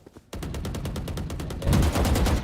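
Rapid gunfire from the video game Valorant during a tournament match: a fast automatic burst of evenly spaced shots starts abruptly after a brief quiet moment and grows louder and denser toward the end.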